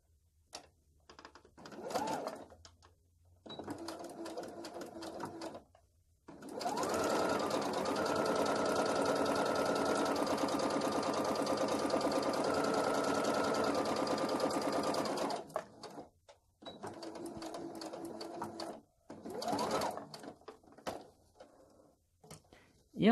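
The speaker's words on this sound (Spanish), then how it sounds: "cosemos a un lado, le damos vuelta y cosemos al otro lado" Sewing machine stitching fabric for a small aromatherapy sachet, short bursts of needle chatter between pauses, then a long steady run of close, even stitching, with someone speaking quietly in the gaps.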